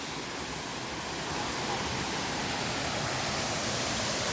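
Inambakan Falls in Moalboal, Cebu roars as a steady, dense wash of falling water, close and loud throughout with no break.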